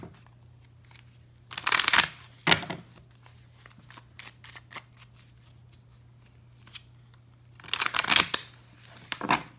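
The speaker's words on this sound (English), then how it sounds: "So I'm going to pull the cards for each sign." Tarot cards shuffle in two distinct riffling bursts, close and crisp, separated by a stretch of quieter card handling and soft slides under a low steady hum.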